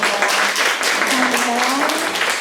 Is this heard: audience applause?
yes